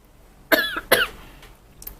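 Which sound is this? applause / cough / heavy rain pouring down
cough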